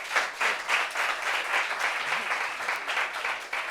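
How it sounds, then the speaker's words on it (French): An audience applauding together, a dense sustained wash of claps at even loudness throughout, no voices standing out. "Applaudissements pour ça."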